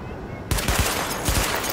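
Weapon test at a firing range in Tom Clancy's The Division, a loud rapid burst of automatic gunfire starting abruptly after a brief quiet moment, with sharp individual shots over a dense roar.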